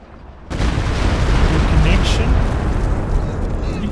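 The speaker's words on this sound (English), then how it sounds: "Here we go, walking Stuka barrage." Walking Stuka dive-bomber barrage in Company of Heroes 2, a sustained roar of blasts and rumbling explosions that kicks in abruptly after a half-second lull and stays loud and dense throughout, with a voice talking over it.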